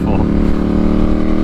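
A motorcycle's exhaust burbles and rumbles as the bike slows in traffic, a loud, close, low engine drone with crackling pops, heard from the rider's position.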